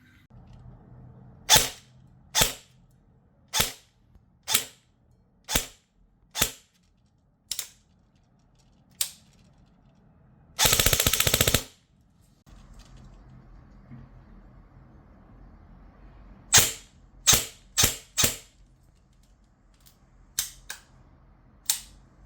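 An airsoft gun fitted with a Warhead Ronin brushless motor fires in short, sharp bursts, each a crisp snap, spaced at a steady rhythm with a brief loud whirring burst in the middle, then a quick cluster of shots near the end.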